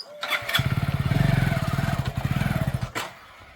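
A motorcycle engine starts and runs close by, a rapid throbbing putter that rises and then settles, with a short burst of noise near the end, in a village comedy scene.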